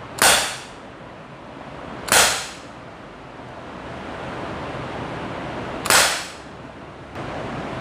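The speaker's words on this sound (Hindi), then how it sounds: "इसको मैं फायर करता हूँ, दिखाता हूँ किस तरह चलता है" Gamo C-15 blowback air pistol firing steel BBs: three sharp, close, loud cracks with brief decaying tails, spaced a couple of seconds apart over a hiss of background noise.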